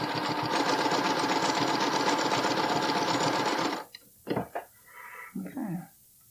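A sewing machine stitches elastic onto a bralette in a steady, loud run, then stops abruptly and gives way to a few short, uneven bursts of stitching at the start of a seam.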